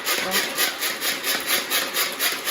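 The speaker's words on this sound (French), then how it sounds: "Alors ici, avec moi, je prends mon hachoir." An electric chopper minces garlic and capers in a steady, rhythmic pattern of soft scraping pulses, about two per second, fairly quiet and close.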